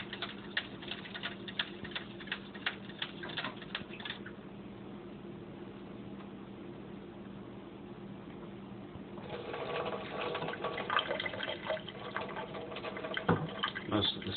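Seeds fermenting in water are stirred in a container, with sloshing and splashing at the start and again toward the end around a quieter stretch. The stirring is soft and close.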